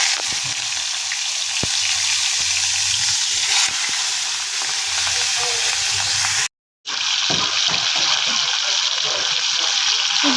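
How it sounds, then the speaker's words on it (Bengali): Fish pieces frying in hot mustard oil in a wok, a loud steady sizzle and spatter throughout, briefly cut off near the middle before resuming. "এবার মাছগুলোকে একে একে ফ্রাই করার জন্য ছেড়ে দিচ্ছি।"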